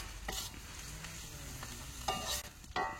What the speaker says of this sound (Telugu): స్వీ అంటుంది అట్నే ఉల్లిగడ్డలు.